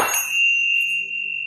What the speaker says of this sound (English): I also found these Tibetan bells,